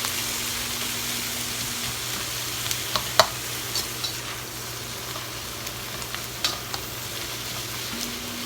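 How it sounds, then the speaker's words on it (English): Minced garlic stirred and fried in a pan for fried rice, a steady close sizzle with scattered scraping clicks from the utensil and a low hum underneath, no voices. "There's the garlic. Get that stirred around in there."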